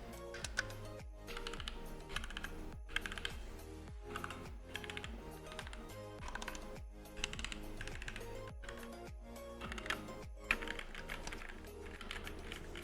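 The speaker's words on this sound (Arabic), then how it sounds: "وده كده صوت السويتش البراون" Steady typing on a Tezarre TK63 60% wireless mechanical keyboard with brown switches, quick clusters of soft clicky keystrokes with brief pauses between bursts, close and clear with nothing else heard.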